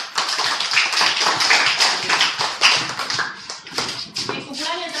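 A group of children clapping hands together in a classroom, a steady dense patter of many claps sustained throughout with some voices mixed in.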